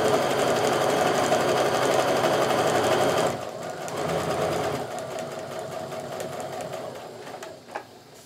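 A sewing machine stitches pieced quilt blocks in a steady, rapid mechanical run for about three seconds, then slows and pauses with softer intermittent whirring and a small click near the end.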